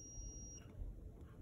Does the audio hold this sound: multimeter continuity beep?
yes